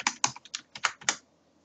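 A computer keyboard clicks as a password is typed on a Linux system, about eight close, crisp keystrokes in a quick uneven burst, then silence.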